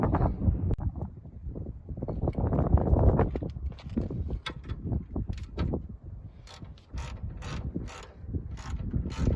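A ratchet or spanner tightens the nut on a Suzuki Swift anti-roll bar drop link, giving close, repeated metallic clicks and scrapes in uneven bursts, with some wind buffeting on the microphone.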